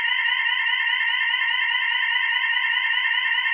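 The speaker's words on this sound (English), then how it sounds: "hopefully the alarm is not disturbing" A fire alarm goes off in a classroom during a mathematics lesson, sounding one loud, unbroken electronic tone that holds steady throughout with no speech over it.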